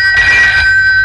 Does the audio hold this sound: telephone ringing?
yes